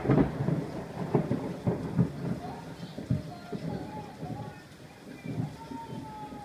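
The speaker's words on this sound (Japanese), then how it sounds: "もうすごく雷落ちてます。" Thunder rumbling during a heavy thunderstorm with downpour in Nagoya city, low rolling booms recurring through the clip amid steady rain noise.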